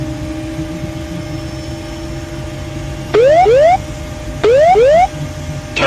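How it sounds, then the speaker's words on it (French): Cockpit ground proximity warning (GPWS) terrain alarm on an airliner nearing the ground: two loud bursts of paired rising whooping tones over a steady faint tone and low cabin hum. "une alarme du GPWS s'active"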